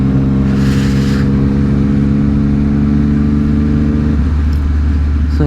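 An adventure motorcycle engine running steadily with a mid-pitched drone, close and loud, with a slight shift in pitch near the end and no talking.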